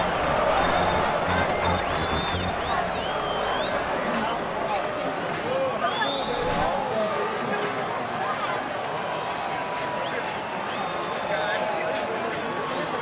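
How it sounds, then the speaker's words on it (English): A stadium crowd in the baseball video game MLB 2K8 during a playoff game at Houston, a loud continuous roar of cheering and whistles that rises and falls beneath a commentator's steady talk. "The crowd is going crazy."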